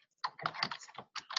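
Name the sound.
typing on a computer keyboard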